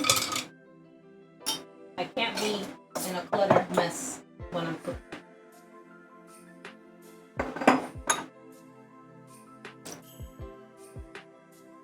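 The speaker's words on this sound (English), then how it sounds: "let me close all of these mason jars and get them out of the way" Glass mason jars being closed and moved aside on a home kitchen counter during cooking, several sharp clinks and knocks in irregular bursts, with a person talking in between.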